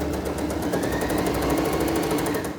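An overlock sewing machine running a locking seam along the crotch portion of a small child's garment: a steady, fast mechanical rattle and whir, loud and close, lasting unbroken throughout.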